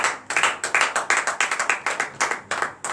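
Congregation clapping in rhythm during a morning prayer service, a steady train of sharp, evenly spaced claps from a group, fairly close and unaccompanied by talk.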